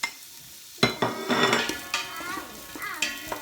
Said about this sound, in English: So all that just straight into the pan. Just fry it off a little bit until it's soft and a bit brown.